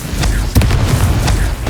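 A Confringo blasting spell explodes in the Hogwarts Legacy video game, a loud, deep, rumbling boom with a sharper burst partway through, sustained and close.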